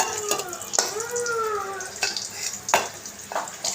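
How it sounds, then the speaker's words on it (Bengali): Fish frying in oil until crisp red, a bubbling sizzle with sharp spattering pops, partly under a brief voice. "লাল লাল করে মশমশা করে ভেজে নিছি"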